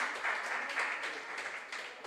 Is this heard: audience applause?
yes